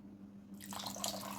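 Water trickles and splashes into a container of whisked salted yogurt, starting about halfway through, a steady close pour over a low background hum.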